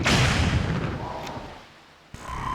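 Cannon fire from an enemy tower in Zelda Wind Waker HD, a loud booming blast that rumbles and fades, followed by a sharp second report near the end.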